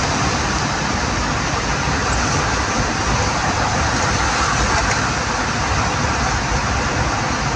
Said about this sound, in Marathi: ट्रकच्या चाकांचा जास्त आवाज येतो ना